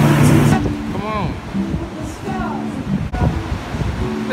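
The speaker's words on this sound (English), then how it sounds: "because it's windy out here" Gusty wind buffets the microphone with a steady low rumble while a person talks over it.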